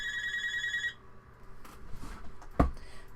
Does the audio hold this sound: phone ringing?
yes